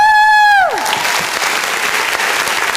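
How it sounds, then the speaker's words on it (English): Sustained crowd applause fills a beauty pageant hall for the Mrs. category contestants at Miss South Asia World 2025, breaking in just as a held electronic tone drops away and continuing steadily. "Big round of applause for all our contestants"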